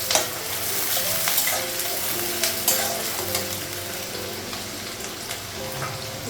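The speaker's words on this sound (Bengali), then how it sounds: "পেঁয়াজটা একটু ভেজে দিব" Onions fry in a pan with a loud, even hiss of hot oil, over which come occasional scraping knocks from stirring, close and without talk.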